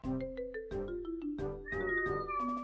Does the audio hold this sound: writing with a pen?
no